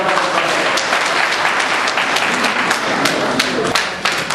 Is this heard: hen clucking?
no